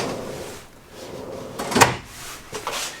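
A drawer in the wardrobe of a 2023 Airstream Flying Cloud 30FB travel trailer slides open and shut, giving a soft glide and then a sharp close clunk, near and brief.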